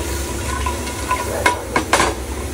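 Onions cook in hot oil for thokku biryani, a soft continuous sizzle broken by a few sharp stirring scrapes against the pan.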